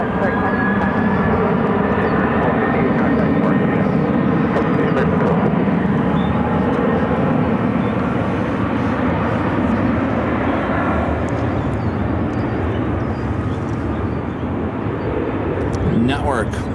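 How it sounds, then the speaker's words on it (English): Steady, loud roar of an American Airlines Airbus A321neo jet arriving at Phoenix Sky Harbor airport, a broad sustained engine rumble with a faint whine, holding nearly constant throughout, with talk under it. "This is American Airlines Flight 2108, arriving from Dallas on an Airbus A321neo."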